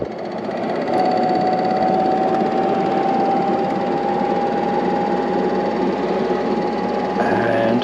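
An Ecoflow Wave 2 portable air conditioner runs on its maximum setting, giving off a steady mechanical drone and whirring hum with a faint high tone, constant and close for several seconds.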